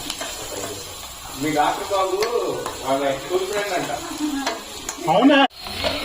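Mushroom curry with green chillies, onions, oil, salt and ginger paste is stirred in a pan over a low flame, a steady sizzle with scraping strokes, and a voice talks throughout.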